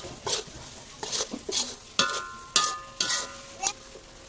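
Minced pork and Thai roasted chili paste are stir-fried in a pan, with a spatula scraping in a steady rhythm over a continuous sizzle, heard up close and without speech.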